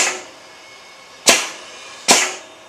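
A transom being tested in a press under a load of many tons cracks with two sharp, loud snaps about a second apart. The fading tail of an earlier crack opens the moment, and there is no speech.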